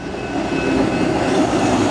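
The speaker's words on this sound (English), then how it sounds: "So we got a truck going by." A heavy vehicle rumbles past steadily nearby, a continuous low roar with no voices.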